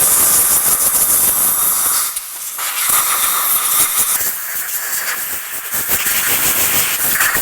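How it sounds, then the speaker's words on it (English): Compressed air blowing a cleaned front brake caliper dry, a loud close hissing blast running continuously with brief dips and bursts as the nozzle moves. "we'll dry it off with some compressed air and maybe clean this out on the inside a little bit"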